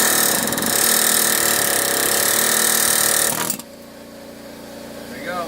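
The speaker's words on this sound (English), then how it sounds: "What I use is an air chisel and try to start peeling them up on here." An air chisel peels rusted-out ball joint parts off a Chevy Silverado K2500 with a loud, close, continuous rapid hammering rattle that cuts off abruptly, leaving quieter shop ambience.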